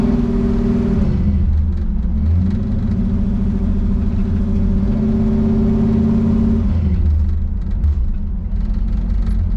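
A Ford Galaxie XL, parked for 38 years and suspected of a faulty transmission vacuum modulator, drives down the road with a steady low engine rumble and whirring drivetrain, its pitch shifting slightly as it holds one gear.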